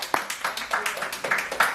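A small audience claps along at a casual talk-show gathering, a brisk run of distinct, evenly spaced hand claps at moderate distance, with no voices over it.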